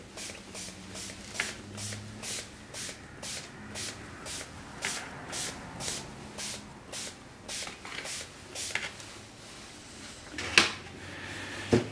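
Rapid, rhythmic pump-spray bursts of amido black solution repeat steadily, about two each second, followed by a couple of louder clicks near the end.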